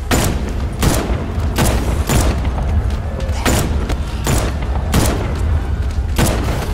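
Rapid gunfire from Batman: Arkham Knight, a steady string of sharp booming shots about every half second over a continuous loud rumble of game sound, close and dense.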